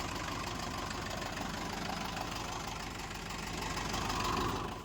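A tractor engine running steadily while ploughing a field, a close, continuous low mechanical drone with a faint knocking texture and a slight swell near the end, with no voices.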